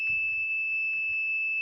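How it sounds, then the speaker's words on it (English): Electric buzzer powered by a small homemade windmill generator gives a steady, continuous high-pitched tone that holds without a break, with faint low rumbling underneath. "So we're making enough electricity to power a buzzer"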